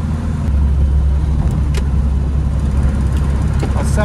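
A 1947 Singer Super 10 car cruising at about 40 mph, with a steady loud engine drone and road rumble heard from inside the cabin, continuous throughout.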